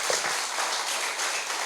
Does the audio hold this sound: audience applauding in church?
yes